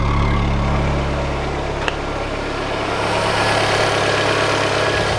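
A car engine idles steadily after finally starting, a low continuous hum with faint vibration throughout and one brief click partway through, with no talking.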